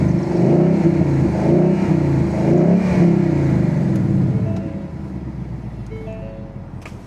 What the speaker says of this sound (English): I'm gonna kind of show y'all what it sounds like just revving.